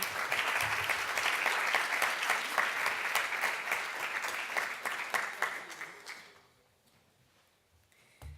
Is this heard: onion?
no